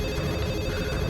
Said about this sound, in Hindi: देखो किसका फोन।